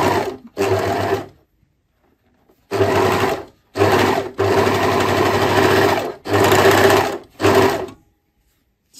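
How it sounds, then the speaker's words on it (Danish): Sewing machine stitching across the ends of a folded collar for a poncho, loud close motor buzzing in six separate bursts of varying length with short silent pauses between them. "Jeg har foldet kraven her ret mod ret og syr simpelthen ude i enderne."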